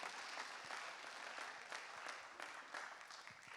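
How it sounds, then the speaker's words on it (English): Audience at a high school freshman orientation gives a round of applause, continuous crowd clapping with distinct individual claps, fairly distant and even in level from start to finish. "give Miss Blanchard and Miss Joseph, who already went upstairs, a round of applause"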